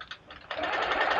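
A longarm quilting machine stitches a medium circle, its rapid needle chatter starting in short bursts and then running steadily at close range.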